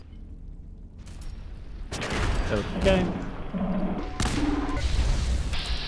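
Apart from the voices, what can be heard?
gunfire and big explosion in video game Fallout 4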